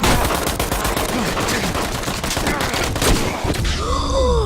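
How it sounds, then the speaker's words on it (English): Rapid, loud gunfire from shotguns in the Metro video game, with dense overlapping blasts throughout and a voice groaning beneath the barrage. "I hate the shotguns in this game."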